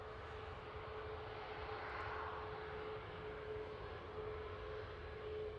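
A Ryanair Boeing 737 MAX 8 departs from Manchester Airport, its jet engines heard as a faint, distant, steady roar throughout with no voices.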